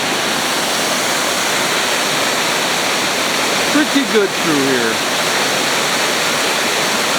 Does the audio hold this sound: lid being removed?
no